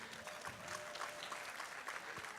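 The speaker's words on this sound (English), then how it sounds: "A big round of applause, please." An audience claps steadily at a Kenyan energy-sector event honoring the first female CEO of KenGen, a dense patter of many hands at moderate level, with faint voices underneath.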